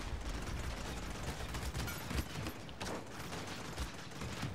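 Gunfire in the Paladins video game comes as a dense, rapid rattle of shots and mechanical clatter, loud and continuous across the moment, with a few sharper cracks standing out.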